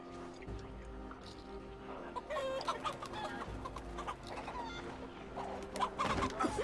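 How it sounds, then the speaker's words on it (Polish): Chickens clucking and squawking in the Assassin's Creed Valhalla video game, several birds with rising, busy clucks over game ambience, growing livelier toward the end. "Teraz kury gonią."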